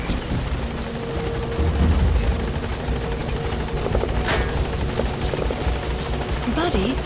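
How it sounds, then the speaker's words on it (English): Support helicopter in the Metal Gear Solid 5 video game, a steady rotor thrum and engine whine hovering close by with game effects and brief radio chatter over it. "His support helicopter"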